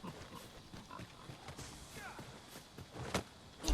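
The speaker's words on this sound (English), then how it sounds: "Oh, those are pigs." Pigs grunting and oinking in the Dragon's Dogma II video game, soft snorts against a quiet outdoor backdrop with light footsteps, a louder grunt near the end.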